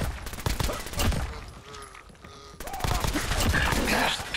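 Gunfire in Fallout 4, bursts of loud rapid shots crackling close by, a short lull, then a dense stretch of continuous firing.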